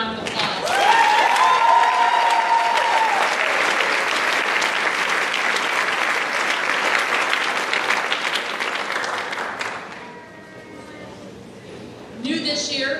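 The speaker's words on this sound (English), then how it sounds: "Please give her a round of applause." A graduation audience breaks into loud, sustained applause, a thick wash of many hands clapping for about ten seconds before fading, then a voice speaks briefly over the room.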